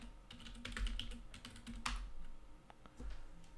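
Keys on a computer keyboard clack in a quick irregular run while a passphrase is typed, soft and close with small pauses between clusters of keystrokes.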